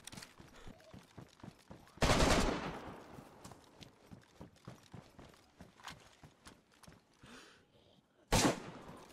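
Two loud .357 repeater rifle shots in the DayZ video game, one sharp blast near the start and another near the end, with quieter clatter and footsteps between them.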